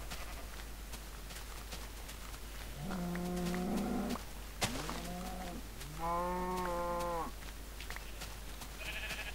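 Mushroom cows in a farming video game giving two drawn-out, wavering moos, one near the three-second mark and one near six seconds, with a short bleat-like call between them over a low steady background hum, no talking.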